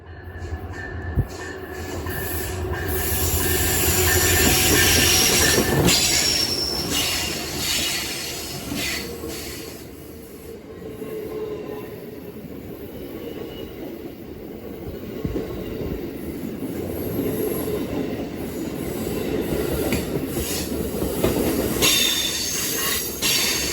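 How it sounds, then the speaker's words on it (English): Amtrak 41 passenger train passing, a loud continuous roar of rolling wagons with rhythmic wheel clatter and occasional squealing that swells and holds throughout. "Around noon, and actually on schedule this time, is Amtrak 41 again, but this time with some different power."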